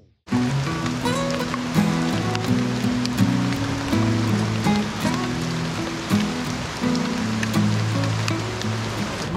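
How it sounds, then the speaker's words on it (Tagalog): Heavy early-morning rain pours steadily and loudly, a dense continuous patter with scattered sharper drops, alongside a roadside river, with no talk. "Alas 7 na ng umaga, sobrang lakas ng ulan."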